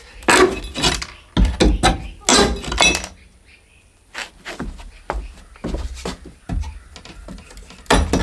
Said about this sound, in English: First, we got to finish pulling these nails out.